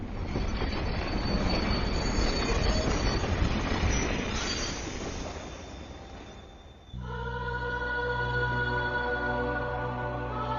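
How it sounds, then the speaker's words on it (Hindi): A train rolls into a small, little-used railway station, a broad rumble giving way near the end to loud, sustained wheel squeals with no talk. "अरे यार, इस ट्रेन को भी इसी वक्त आना था।"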